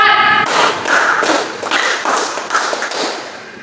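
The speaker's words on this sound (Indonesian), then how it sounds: "Tepuk 1, tepuk 2, tepuk 3, 4," Group of children clapping in unison during a classroom counting game, a series of about six sharp, evenly spaced claps, loud and close, with a teacher's voice at the start.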